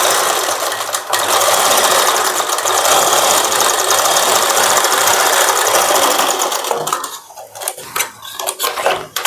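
A sewing machine runs steadily and loudly while stitching a boat neck blouse made from a saree, a continuous close mechanical whir that breaks into short stops and restarts near the end.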